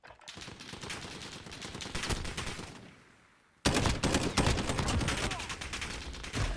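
Gunfire in Call of Duty: Modern Warfare rattles in dense, rapid bursts, dips briefly to near quiet, then resumes loud and sustained.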